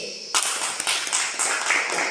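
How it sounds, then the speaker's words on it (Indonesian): Students in a classroom clap for a presenting group, a burst of brisk hand clapping that starts abruptly and continues at a steady, moderately loud level. "Mari kita tepuk tangan untuk kelompok C."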